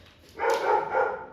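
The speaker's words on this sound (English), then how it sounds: "excuse the dog's barking" A dog barks indoors during a shoulder assessment, a couple of close, fairly loud barks in quick succession with no talking over them.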